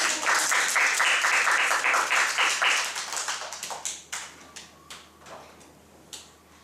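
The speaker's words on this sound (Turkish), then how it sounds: "Biz de alkışlayalım mı?" Children applaud together in a dense, steady burst of clapping for about three seconds, then it thins out into scattered single claps that trail off one by one.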